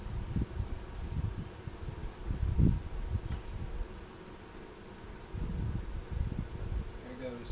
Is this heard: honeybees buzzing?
yes